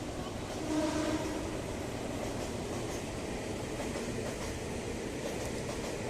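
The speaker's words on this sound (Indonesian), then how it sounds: "Oke, ada juga kereta lewat ya ke arah Tanah Abang dan ke arah Bogor ya." A Jakarta KRL commuter train rumbles past at a steady distance, a continuous rolling roar with faint rhythmic clatter and no voices.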